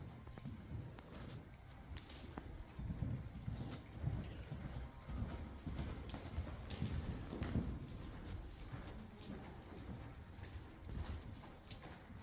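Horse cantering in an arena, its hooves thudding in a soft, steady rolling rhythm over a dull background, fairly quiet and with no voices.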